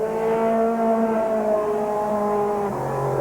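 A race car engine at Columbus Motor Speedway in Ohio during a 1987 state race, car number 90, holds a loud, steady high-pitched drone close by, pitch sagging slightly near the end, with no talk.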